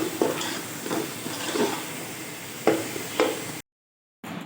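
A spoon stirs beef pulao masala with crushed green chilies in a cooking pot, giving several soft scraping strokes over a low sizzle, then a brief cut to silence before the sizzle returns.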